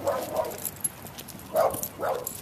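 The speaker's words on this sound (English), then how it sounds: "Noisy dog over here." A dog barks a few times in short, sharp bursts at a moderate distance, with quiet ambient noise between the barks.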